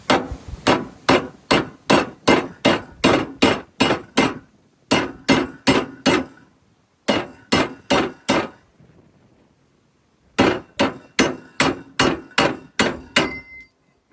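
Brand-new OEM John Deere bushing hammered out of a tractor part: loud, sharp metallic blows struck close by in fast regular bursts of about eight to ten, separated by short pauses.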